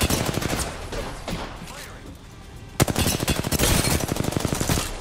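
Gunfire in Apex Legends, with dense rapid automatic bursts up close. A quieter stretch of scattered shots follows, then a long sustained volley. Faint speech sits beneath the shooting.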